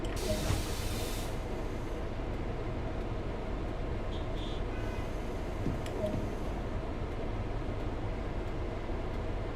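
A steady hiss of air brakes applied to full service over a low rumbling train in the video game Train Sim World 2, with a brief sharper burst of release near the start.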